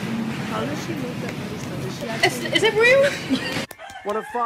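A rooster crows loudly and close at a poultry judging show with about 500 birds, one drawn-out cock-a-doodle-doo over crowd noise, ending abruptly as a person talks.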